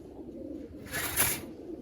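A male pigeon coos in a loft, a low murmuring call near and moderately loud, with a brief burst of broadband noise midway through.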